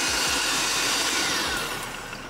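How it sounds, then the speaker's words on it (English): A food processor whirs steadily while blending coconut pieces with water, a loud, constant motor drone with a broadband grind that eases slightly toward the end, and no voices. "We'll go in to the food processor with our coconuts"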